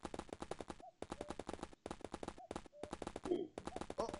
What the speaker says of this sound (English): Oh, machine gun! Machine guns!